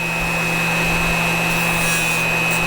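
A Dremel rotary tool grinds a taper into jewelry wire held against a small grinding wheel: a steady, loud, close whine with a constant high tone over a gritty rasping hiss, continuous and alone.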